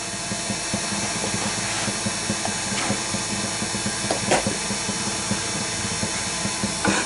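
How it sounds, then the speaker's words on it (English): A wooden chess queen spins on a lathe at reduced speed while 150-grit sandpaper is worked gently against it, giving a continuous whirring hum with a soft rasping hiss and a few brief scuffs. "now she's ready to sand."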